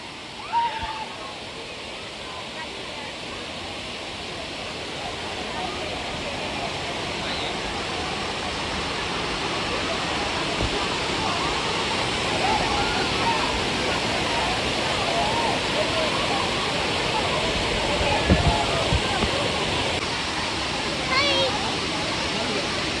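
Savdav waterfall roaring nearby, a dense, steady rush of falling water that fills the whole clip and grows slightly louder over time, with faint voices underneath.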